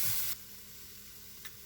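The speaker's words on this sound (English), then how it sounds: "So I'm just going to give them all a really big stir" Stir-fry vegetables sizzle steadily in a pan while being stirred. A louder hiss opens the sound, then a quieter continuous fry follows, broken by a brief scrape.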